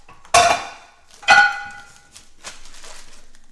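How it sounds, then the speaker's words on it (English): Dishes set down in a kitchen sink, two sharp ringing clinks about a second apart, then softer clatter, close and clear with no talking. "I'm gonna put these in the sink to get washed."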